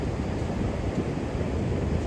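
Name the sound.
ocean wave splashing up on shore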